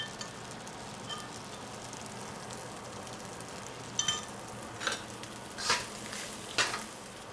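Peruvian fried rice sizzles in oil in a pan, a faint steady crackle punctuated near the end by a few louder bursts of stirring or tossing.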